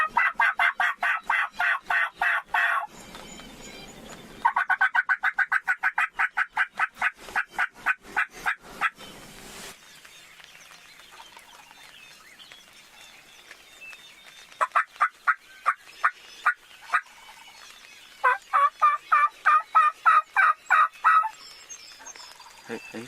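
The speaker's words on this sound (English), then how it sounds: "He's gobbling his head off now." Wild turkey gobbling repeatedly during turkey season, several long rapid gobble bursts from nearby birds, loud and clear with quiet gaps between calls.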